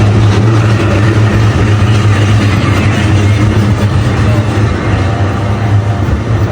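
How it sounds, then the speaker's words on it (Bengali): A loud, continuous low rumble and mechanical drone of a tram rolling past nearby in Oslo, Norway, steady throughout with no clear voices. "প্রচুর সাউন্ড হইতেছে, ট্রাম যাইতেছে"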